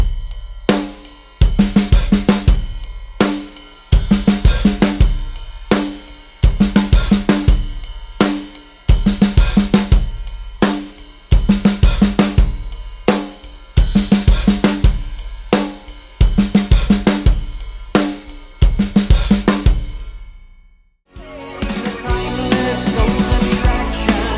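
A drum kit plays a 7/8 groove in repeating bars, from the verse of a song in a drummer's style, with punchy kick and snare hits and cymbals, ending in a sustained crash wash.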